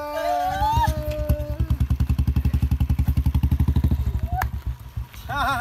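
A motorcycle on the Chandigarh–Manali road starts up and rides off with a steady, rapid engine pulse that runs near and loud throughout, briefly accompanied by a whistle-like tone and voices in the background.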